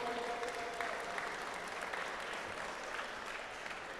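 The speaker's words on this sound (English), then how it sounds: "So a round of applause," Faint, steady applause from supporters in a sports hall at a team tournament, a soft continuous patter of many hands heard from a distance.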